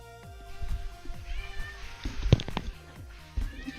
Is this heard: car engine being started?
no